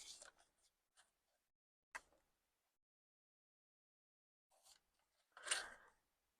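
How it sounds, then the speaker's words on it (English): Scissors snip through paper circles in a few short, crisp cuts separated by quiet pauses, with a louder rustling cut near the end, close and fairly faint. "I'm going to cut right through my circles."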